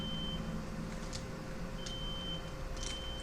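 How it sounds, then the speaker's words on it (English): A smoke detector in a neighbouring apartment sounds off, a thin, steady high-pitched tone that comes and goes faintly in the distance beneath low background hum. "The smoke detector in my neighbor's apartment is going off."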